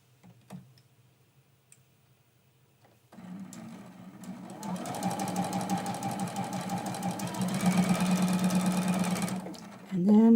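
A sewing machine stitches quilt pieces with a 1/4 inch seam allowance, its rapid, even ticking chatter starting after a quiet moment and running steadily for several seconds before stopping.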